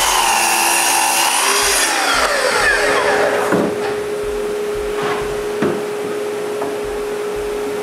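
A power saw cuts through two stacked sections of wooden planks, starting with a falling motor whine and continuing as a loud, close cutting drone, with a few sharp knocks of wood.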